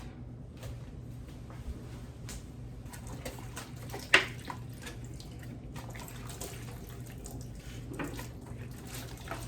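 Water running from a tap while a dish is rinsed at a sink, a soft continuous splash with faint clinks and one sharp knock of the dish partway through, close by and without speech.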